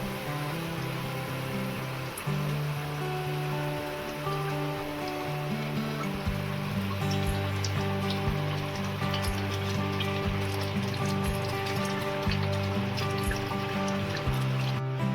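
Mutton tikiya gravy simmering in a pan, a steady bubbling and popping with continuous low tones and scattered small pops throughout, close and even with no talking.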